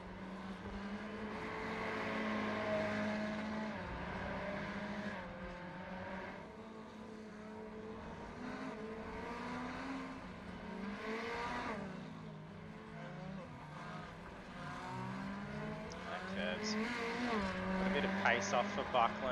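Ferrari 488 race cars run at Circuit de Barcelona, engines droning and rising in pitch through gear changes, cars passing at moderate distance, with a commentator talking steadily over the racing.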